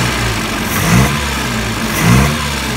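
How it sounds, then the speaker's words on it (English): MG PA vintage car engine with electronic ignition turning over and catching, a steady close running note that swells twice in brief revs before settling back, with no talk. "So fingers crossed, here we go, this is the first turnover"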